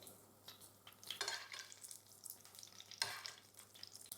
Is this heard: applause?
no